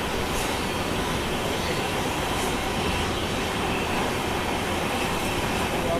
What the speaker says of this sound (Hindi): ज़बरदस्त ओवरटेक देख रहे थे ना, वो बरेली इंटरसिटी का था